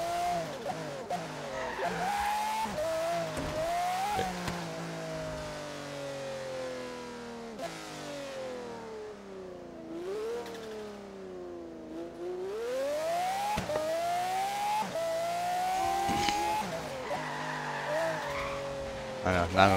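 A Bugatti in a driving game revs and skids, its engine pitch rising and falling over shifts and turns, with tire squeal layered on top; a voice talks quietly beneath.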